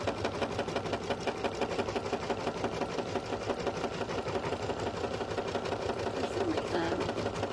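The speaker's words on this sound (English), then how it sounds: "So it's just going to be a quick stitch around just for that placement." An embroidery machine stitching an applique placement line, a steady fast mechanical rattle of needle strokes that runs through the whole stretch, with a person talking quietly over it.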